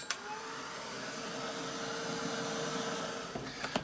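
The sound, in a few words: hair dryer drying paint on an art journal page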